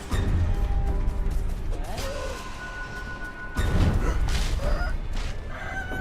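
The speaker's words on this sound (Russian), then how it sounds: "меня петух убивает" Rooster in Sekiro: Shadows Die Twice attacking, with loud squawking cries and flapping over dense game noise and impacts, a second burst of clucking and crashing following partway through.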